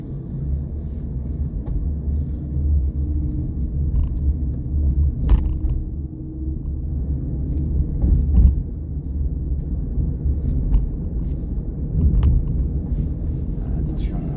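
A car rolls along the road during a driving lesson, its engine and tyres making a steady low rumble that stays close and constant, with faint cabin noises now and then.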